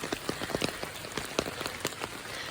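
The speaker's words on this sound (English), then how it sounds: "A whole lot of acorns down by the woodshed. You can hear them hit the tin roof." Acorns dropping onto a tin roof by a woodshed on a rainy morning, giving scattered sharp taps and irregular pattering close by, some hits louder than others, over a steady wet background hiss.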